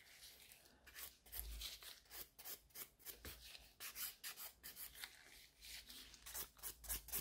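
A gel nail extension is filed with a nail file around the cuticle area, giving a quiet, quick run of rhythmic rasping strokes that repeat steadily and close by.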